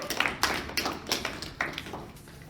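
A small audience claps in a few short bursts of scattered, uneven hand claps after a vote is read aloud at a Survivor-style finale, fairly close and moderately loud, with gaps between each burst.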